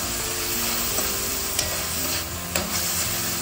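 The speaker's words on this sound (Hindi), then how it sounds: "हम अच्छे से मिक्स कर देंगे।" Vegetables for homestyle fried rice being stirred in a hot pan, a continuous close sizzle with a few scraping strokes of the spatula against the metal, no voices.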